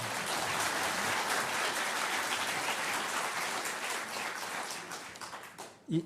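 A congregation at a church pastor's installation service gives another round of loud, continuous applause that holds steady, then thins and tapers off, ending with a brief thump.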